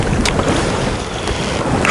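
A Tornado airboat driven by a Chinese engine runs steadily as a loud, continuous roar with rushing wind and water noise, close and unbroken, with no voices.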